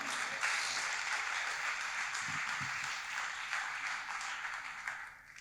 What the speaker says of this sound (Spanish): Alguien, dale un aplauso al Señor